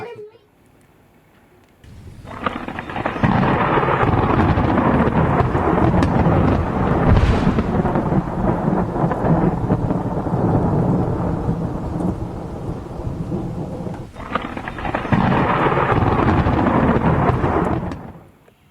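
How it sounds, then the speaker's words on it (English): Long rolling thunder from a distant storm over the sea off a Fiji island, with lightning on the horizon. Two sustained loud rumbles, the first lasting about twelve seconds and the second shorter, over a quiet background. "Just the lightning staying in the one spot and just going off every 2 and 3 seconds."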